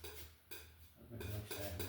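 Oil paints in sap green, midnight white, midnight brown and a little crimson being worked together with a brush or knife on a palette, a soft wet scraping and swishing that comes in two bursts, close and fairly quiet.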